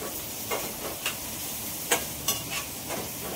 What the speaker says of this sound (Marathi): फ्राय करून घेतो मस्तपैकी